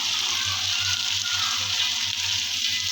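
Crushed garlic cloves hitting hot oil in a frying pan, giving a loud, steady, close sizzle that holds without a break and has a faint low hum underneath.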